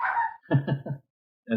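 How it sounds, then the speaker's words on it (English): A dog barks indoors in a quick burst of three or four close, fairly loud yaps, followed by a brief pause and one more bark, with no one talking. "That's the dog, by the way."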